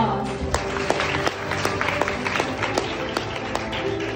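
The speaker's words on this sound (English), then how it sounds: "gives everyone a round of applause." Audience applause opens a university film festival event, a moderate, steady patter of many hands clapping in a hall, with a few sharper individual claps standing out from the mass.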